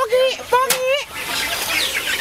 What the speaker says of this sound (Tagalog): May mga pabo dito.